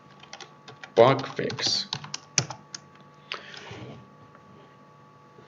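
Keys clatter on a computer keyboard in quick, uneven bursts of close clicks that thin out toward the end, with a brief spoken phrase at the start.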